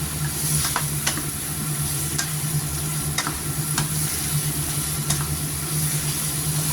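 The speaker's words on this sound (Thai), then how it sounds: "ใส่มะเขือที่เราผัดไว้ ใส่ลงไป ผัดให้เข้ากัน" Eggplant being stir-fried in a pan, heard as a steady close sizzle with the dull scrape of a utensil stirring and tapping against the pan every second or so, continuous and fairly loud with no talk.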